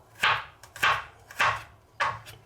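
Knife chopping three garlic cloves into pieces on a board, four crisp evenly spaced cuts, close and fairly quiet.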